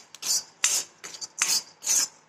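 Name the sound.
stirring roasting dal in dry pan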